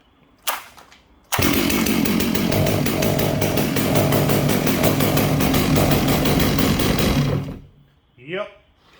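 A ported Stihl MS 660 chainsaw with a Max Flo muffler roars loud and steady for about six seconds after a brief sputter, then cuts off, followed by a short trailing burst.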